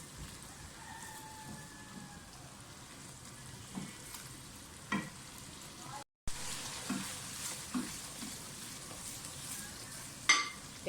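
Ground onion and garlic paste frying in a pan for a dhaba-style mixed vegetable dish, a steady low sizzle with occasional stirring scrapes and a brief dropout midway.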